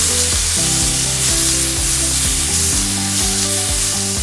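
Sake and mirin hit burdock root frying in a pan for kinpira gobo, giving a steady, close sizzle that runs the whole time beneath prominent tonal background music.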